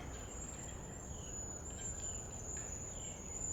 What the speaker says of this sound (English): The birds are going in the back.